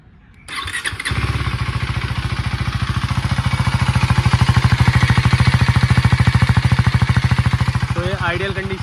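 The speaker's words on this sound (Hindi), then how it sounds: "तो अभी मैं आपको इसकी एग्जॉस्ट नोट सुनाता हूँ" A KTM Duke 390 Gen3 motorcycle, 2024 model, starts and settles into a steady, rapid exhaust pulse at idle, close and loud throughout.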